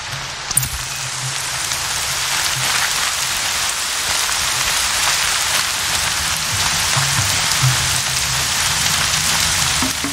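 Steady rainfall in the video game Horizon Zero Dawn, a dense, even hiss of drops on surfaces that holds loud and constant throughout with no talking.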